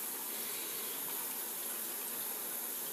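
Water running steadily while a dog is showered, a continuous close hissing gush with no breaks or talk.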